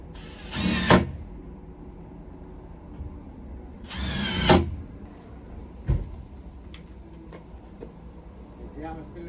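A power drill drives screws into a gate in two loud whirring bursts a few seconds apart, followed by clunks and handling noises, with quieter stretches between.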